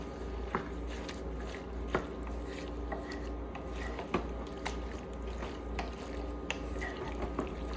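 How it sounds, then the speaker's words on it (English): Tomato soup of diced tomatoes and tomato paste being stirred in a pot, with faint, soft wet scrapes and occasional light clicks of a utensil against the pot over a low steady background hum. "Give that a nice stir."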